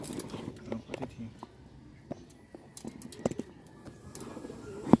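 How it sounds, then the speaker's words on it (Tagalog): A pigeon eats and gives soft cooing calls mixed with sharp pecking taps, and people can be heard talking quietly nearby. "that's the Papa Pigeon."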